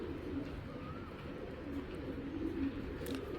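Soft, low pigeon coos repeat faintly from a large ash-eyed bird, continuing steadily against a quiet background hum with little talking.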